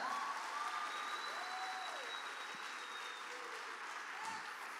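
Church congregation applauding during a family evening worship service, a quiet distant wash of clapping with faint tonal sounds drifting above it.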